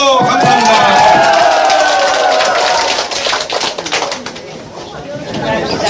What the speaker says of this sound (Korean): 자, 힘찬 박수!